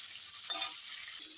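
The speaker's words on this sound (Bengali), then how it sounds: "হলুদ লবণ দিয়ে ভেজে নিই পটলগুলো সুন্দর করে" Sliced pointed gourd (potol) fries in hot oil seasoned with turmeric and salt, giving a steady, close hiss of sizzling with a soft stir partway through.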